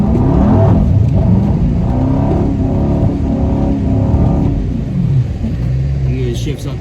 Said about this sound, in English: My dude showing me how to drift the car